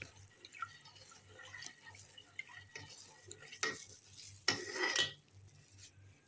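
Salt and sugar stirred together in a bowl for pickling olives, faint scraping and light clinks of a spoon against the dish, with a few sharper taps, fairly quiet and close.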